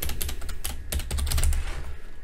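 Rapid typing on a computer keyboard while building a Dynamo script, a steady patter of close, crisp key clicks running for a couple of seconds with no talk.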